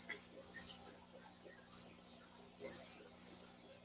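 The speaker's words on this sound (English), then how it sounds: "Crickets are the bedtime sound of those that live in the forests. I love the sound of crickets." Crickets chirp steadily in a forest setting at night, a high rhythmic trilling repeated in short bursts roughly every half second, fairly close, with a low steady hum beneath and no talking.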